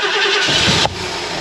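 A 351C V8 in a Mercury Capri roars loudly under load, then the engine note drops abruptly as it settles, close and harsh with no talking over it.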